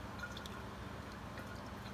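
Water poured from the tap through cheesecloth into a jar of soaking wheatgrass seed, a steady close-up liquid trickle and splash running continuously with faint drips throughout.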